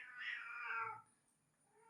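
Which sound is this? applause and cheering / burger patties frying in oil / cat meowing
cat meowing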